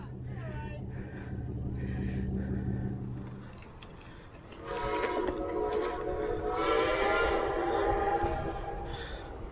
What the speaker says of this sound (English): look at Andy Muller's train as we go by